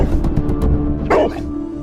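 A cartoon dog barks in a short burst of sharp yaps, loud and close, with a brief whine near the end and no talking.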